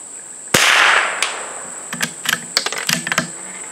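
A CZ 455 varmint thumbhole fluted .22 LR rifle fires one sharp, loud shot at a distant steel plate. The shot decays quickly and is followed by several small, light clicks, with a steady thin high whine in the background.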